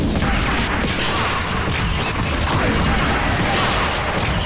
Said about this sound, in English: Before you try to blow up that wall.